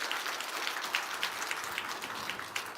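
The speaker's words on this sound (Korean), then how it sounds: "거기도 박수 한번 해주시기 바랍니다" A church congregation gives a quiet round of applause during a Sunday morning service. The clapping is soft and somewhat distant, with a steady patter of many hands.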